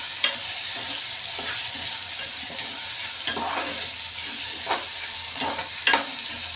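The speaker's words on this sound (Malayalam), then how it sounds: "തക്കാളി നന്നായിട്ട് വഴറ്റിയെടുക്കുന്നുണ്ട്." Tomatoes sauté in a pan for an egg curry, giving a steady sizzle and frying hiss broken by several scraping clinks of the spoon as they are stirred.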